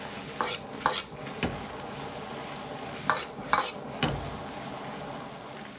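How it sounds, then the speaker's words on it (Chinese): Green beans and egg being stir-fried in a wok, with several sharp scraping stirs of the spatula spaced unevenly over a steady low sizzle, close and fairly clear, no voices. "翻炒大概需要1分钟左右，让各种味道能够很好的融合"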